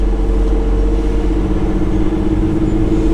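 Cars being driven around inside a car plant, a steady low engine rumble with a continuous droning hum, close and fairly loud with no clear pass-bys or breaks.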